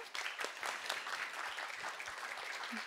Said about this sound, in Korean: 우리 프로게이머들 그리고 우리 선수들에게 다시 한번 큰 박수 부탁드리겠습니다.